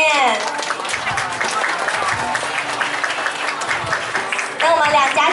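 Wedding guests at a banquet clap warmly in a dense, steady wash of applause lasting several seconds, with a voice talking over it at the start and end.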